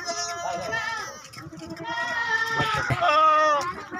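Goats at a goat farm bleat repeatedly, several overlapping drawn-out calls close by, with someone speaking over them.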